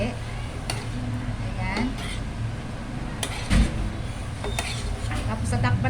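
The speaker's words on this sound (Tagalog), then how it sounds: "ihalo-halo lang natin ng konti" Bitter gourd (ampalaya) is stirred in a pan, making soft scraping and light metallic clinks over a steady background hum. A voice speaks briefly over the stirring.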